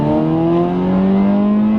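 Honda EK hatchback bogging after a clutch-dump launch, its engine droning loudly and steadily with a strained, labouring tone, close and continuous, with no talk.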